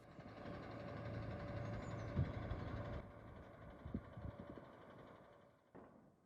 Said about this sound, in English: The delivery truck was able to leave for its next job.